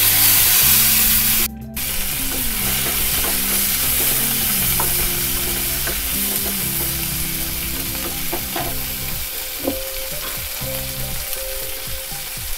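Onion and tomato fry in a pan with a steady, loud sizzle and crackle, broken by soft stirring and scraping, heard alone without talk.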